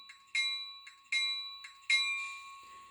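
A model locomotive's air bell from a 1943-style engine on a home layout rings three times at an even pace, each bright metallic strike fading before the next, close and fairly quiet.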